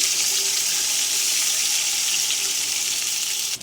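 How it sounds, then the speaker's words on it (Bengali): Water poured into a pan of tempered black cumin, green chillies and eggplant for eggplant hilsa curry, a steady broadband rush of pouring and hissing that runs unbroken at close range and cuts off abruptly at the end. "তো জল দিয়ে দিলাম"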